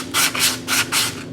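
Body filler on a car's compound-curved panel is sanded by hand in four steady back-and-forth rubbing strokes, close and loud, over a faint low hum.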